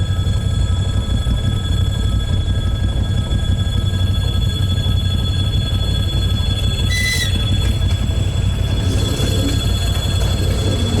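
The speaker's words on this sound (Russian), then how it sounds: "Едет электричка с Тольятти на Самару" A loud, steady rumble of an electric commuter train running between Tolyatti and Samara rolling past nearby in snowy countryside, with a brief high squeal partway through.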